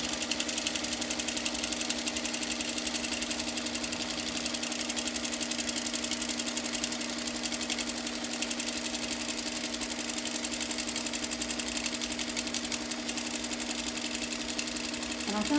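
Sewing machine running steadily while machine quilting on and around hand appliqué, a continuous fast mechanical stitching rattle with motor hum, close and even throughout.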